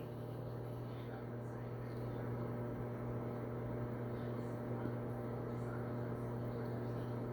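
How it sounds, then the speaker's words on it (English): A microwave oven runs with crumpled aluminum foil inside, giving a steady, even hum with a constant low drone and no sharp crackles or pops. "So let's go ahead and put this in the microwave and see what happens."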